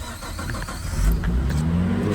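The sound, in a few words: Nissan car engine being started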